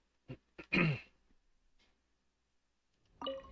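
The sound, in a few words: coughing and throat clearing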